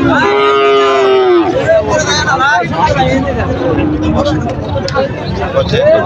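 A loud, drawn-out moo from nearby cattle opens, followed by the busy babble of a crowded cattle market with people talking.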